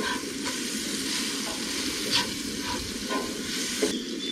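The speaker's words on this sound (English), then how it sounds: "let's get the sausage dropped in there" Sausage patties sizzle and fry steadily on a Blackstone griddle at an outdoor camp, a close, continuous crackling hiss with a few brief scrapes and taps, no talking.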